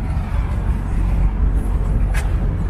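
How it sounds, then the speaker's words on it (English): Tractor engine rolling past at the Flower Fields at Carlsbad Ranch, California, heard as a steady low rumble that stays fairly loud across the whole stretch, with no talking. "Oh, tractor!"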